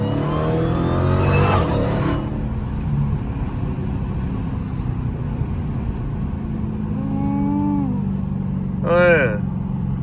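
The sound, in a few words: Dodge Hellcat supercharger whine while driving in traffic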